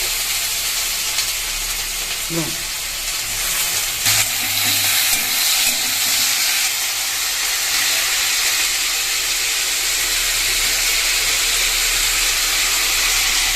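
Carrots fry in oil in a pan with a loud, steady sizzle throughout, plus a few faint scrapes of stirring near the start.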